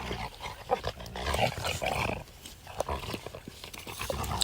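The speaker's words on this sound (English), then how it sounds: "whenever they play, Biggie's always doing the little play growl" Two big dogs play-fighting at close range, giving low rumbling growls mixed with scuffling, panting and paw scrapes in a busy, continuous tussle.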